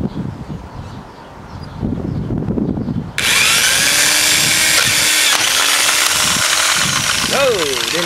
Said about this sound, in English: that's how you drill through a remote a second time